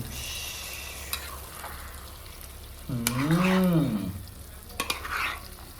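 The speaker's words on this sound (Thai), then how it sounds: "หอยแน่นๆผัดกะเพราหอยแมงพู่แน่น" Mussels stir-fried with holy basil crackle in a hot pan, with a steady sizzle, a few sharp utensil clacks, and a brief hummed voice sound in the middle.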